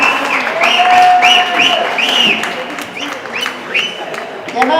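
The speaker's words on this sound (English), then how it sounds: "A big round of applause to Coolidge" An audience at a squash award function applauds steadily while a voice speaks over the clapping and whistle-like tones rise and fall through the crowd noise.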